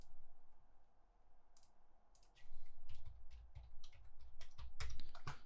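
Computer keyboard keys clicking close by in an irregular run of quick presses, sparse at first and then denser, with no talking.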